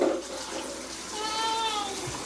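Tap water runs steadily into a baby's bath, a continuous hiss and splash at moderate level, with a faint voice briefly audible near the start.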